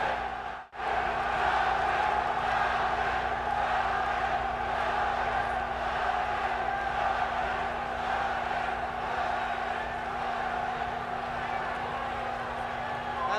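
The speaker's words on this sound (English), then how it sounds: "This Swiss crowd really chanting and going crazy with the possibility, anyway, that the German could win" A Swiss crowd at a boxing match between Muhammad Ali and German Jürgen Blin chants and roars in a steady, dense wall of noise that fills the whole stretch.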